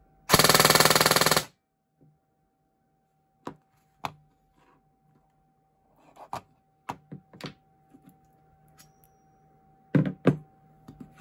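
An airsoft electric gun fires a short, loud full-auto burst of about a second and a half, followed by quiet with a faint hum and scattered light clicks and knocks.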